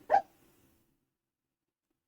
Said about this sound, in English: Can you hear my dog?